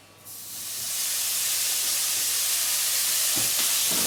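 Smoked bacon lardons hit a dry pan with no added fat and break into a loud, steady hiss and sizzle that swells within a second and carries on close up, with a couple of faint clinks near the end.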